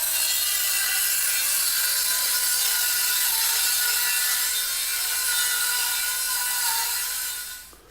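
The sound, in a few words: circular saw cutting plywood with straight cut jig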